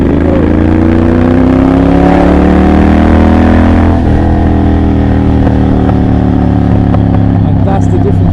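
A Triumph Bobber motorcycle with a Motone Mayhem X-Pipe exhaust rides by up close, its loud engine note rising through acceleration, dropping at a shift, then climbing again. Someone talks over the engine.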